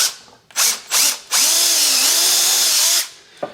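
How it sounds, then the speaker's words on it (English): A power drill bores a hole in soft wood for a workbench build: two short motor bursts, then one long steady whine as the bit cuts, close and loud, ending in a brief clunk. "get those centered like that, drill a hole"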